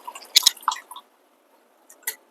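Tamarind pulp squeezed by hand for sambar, giving a few close, wet squishing and squelching bursts early on, then a short pause and one more brief squish, with no talking.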